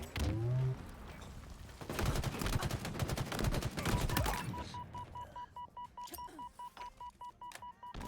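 Rapid gunfire in a shooter game, a dense volley of close shots over a few seconds, followed by steady repeating electronic beeps and scattered quieter game sounds.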